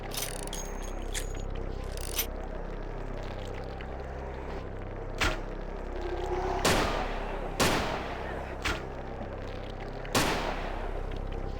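Gunshots in the vampire game Vampire the Masquerade Bloodlines: several sharp, separate cracks spaced irregularly over a steady low background hum, moderately loud and close.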